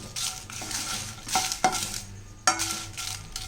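Dried red chillies dry-roasted in a bare kadai without oil, for rasam powder: close, hissy scraping strokes of a ladle stirring the chillies, with a few louder knocks against the pan, no voices.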